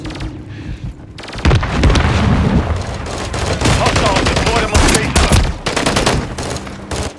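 Dense rapid gunfire and explosions from the video game Call of Duty: Modern Warfare 3, loud and continuous after a brief quieter opening, with a voice shouting amid the battle.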